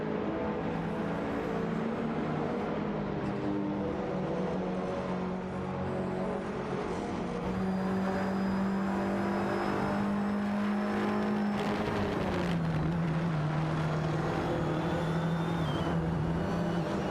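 Race cars lapping a track in a racing video game, a steady droning engine whine that shifts pitch as cars accelerate and pass, moderately loud and continuous with no voices.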